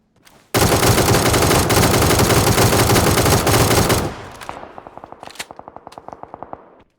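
An automatic rifle sprays a long continuous burst in PUBG on PC, loud and dense for several seconds, then breaks into a string of sharp separate shots with echo as it tapers off.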